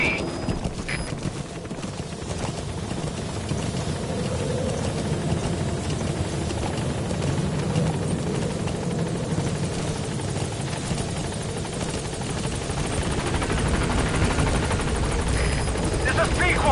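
A helicopter in Metal Gear Solid V: The Phantom Pain approaching a landing zone. Its rotor thrum and turbine roar hold steady and loud the whole way through, with faint game sounds mixed in.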